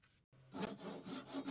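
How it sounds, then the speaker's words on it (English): A Japanese pull saw cuts a white oak board by hand: a brief pause, then quick, close, rasping strokes in a steady rhythm. "cutting the sides, again using the Japanese pool saw and Paul Sellers Poor Man's Miter Station"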